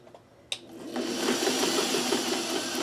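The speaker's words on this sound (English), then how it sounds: "I'm just going to sew." Sewing machine stitching a thick denim zipper pouch; a brief click is followed by a continuous, fast, even whirring of stitches that runs close and steady to the end.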